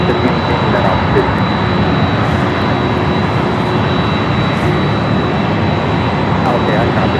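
A Philippine Airlines Boeing 777 jet moves off toward the west gates at LAX, its engines giving a steady, even broadband roar that holds throughout without clear peaks.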